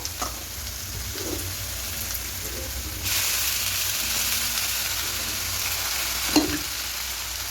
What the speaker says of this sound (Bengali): ভাতটা আছে ওটা এখানে ফেলে দেবো